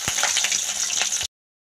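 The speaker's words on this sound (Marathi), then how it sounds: "आता आपण ह्याच तेलामध्ये आलू वडी फ्राय करून घेऊया" Aloo vadi frying in hot oil gives a steady, close hiss with small pops, then stops abruptly.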